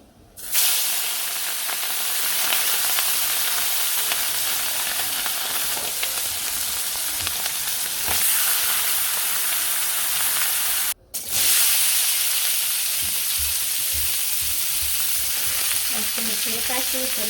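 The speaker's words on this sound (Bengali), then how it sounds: "সরসরির জন্য প্রথমে ছোটো মাছ আর কি ভাজি করুন তো ভেজে নিই" Small fish frying in oil, a loud, dense, steady sizzle close by that runs almost unbroken, with one brief dropout midway and some stirring and clatter near the end.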